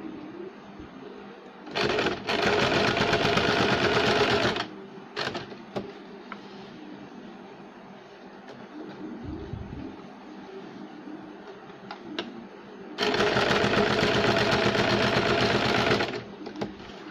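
A sewing machine runs a double line of stitching along a sleeve seam in two loud, steady whirring bursts, separated by quieter handling noises and rustling fabric, with no talking.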